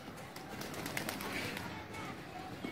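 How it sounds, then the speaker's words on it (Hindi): Pet pigeons on a rooftop eating grain at dusk, soft pecking and scattered faint coos with brief wing flutters, heard close and quiet while someone talks nearby. "ये दाना खा रहे हैं मेरे कबूतर ये सारे"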